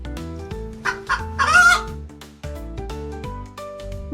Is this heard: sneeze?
no